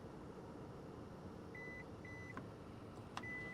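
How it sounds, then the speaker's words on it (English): Two short electronic beeps from the liftgate of a 2024 Hyundai Kona Electric Limited sound in quick succession over a quiet background hum, followed by a faint click and another tone. "You're going to hold this button down and listen for the 2 beeps."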